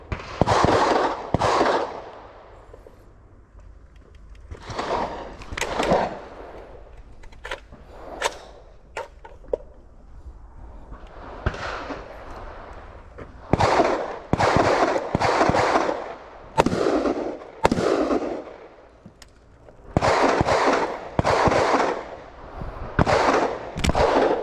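Rifle shots at an outdoor shooting range, a dense series of sharp cracks from several shooters with irregular spacing, some close and loud, echoing over a steady background with no talk.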